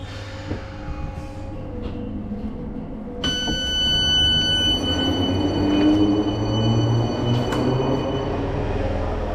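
A train at Glasgow Central low level station, rumbling close by with a loud whine and tonal squeal that rise partway through, and brief clanks over a steady roar.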